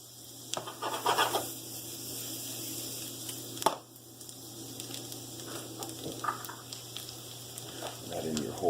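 Garlic frying in melted butter gives a soft, steady sizzle with occasional stirring clinks and scrapes, close by and moderately quiet, and a voice speaks briefly over it.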